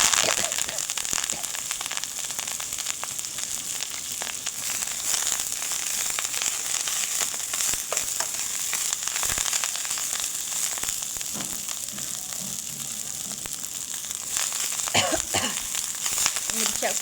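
Garlic frying golden brown in hot oil for a chickpea-greens dish, a steady broadband crackle and sizzle running throughout with scattered pops, and a voice speaking over it at times.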